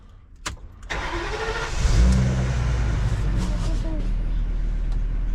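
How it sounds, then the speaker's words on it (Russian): A car engine cranks and starts in a motorhome setting, then settles into a steady, loud idle as it warms up, with brief clicks and handling noise just before ignition. "заводим машину, прогреваем"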